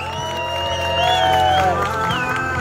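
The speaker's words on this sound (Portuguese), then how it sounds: "pode bater palmas que ela merece" Party guests at a mother's birthday celebration in São Paulo's east zone cheer and whoop loudly, with crowd noise and clapping over a continuous hum of voices.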